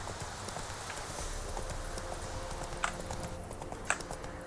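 Roach, a horse in The Witcher 3, trots with steady, close clip-clopping hooves over a constant game background bed, with a couple of sharper hoof strikes standing out near the end.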